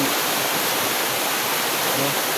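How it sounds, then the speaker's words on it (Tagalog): Strong river water rushes steadily in a dense, unbroken roar, loud and close, with no talking over it. "Yung lakas yung tubig mga idol, oh."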